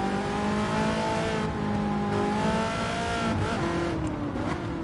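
A car engine in the racing game Gran Turismo 7, fitted with Brembo brakes and pads, revs loudly and continuously, its pitch rising and falling through gear changes, with no talk over it.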